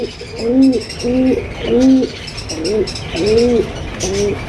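Local desi pigeons coo close and loud, giving about six rounded, throaty coos in a regular rhythm with no voices over them.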